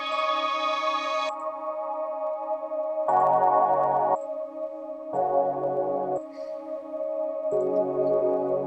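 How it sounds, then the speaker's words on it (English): Early digital synthesizer with a peculiar, buzzy texture playing sustained chords in alternating blocks, steady and upfront with no voices. "it's one of the first digital synths, and it has a peculiar texture to it"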